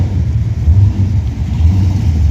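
Cars leaving an outdoor classic car meet, a deep rumbling engine note swelling and easing as they rev nearby, loud and continuous with low throaty pulses and no talking.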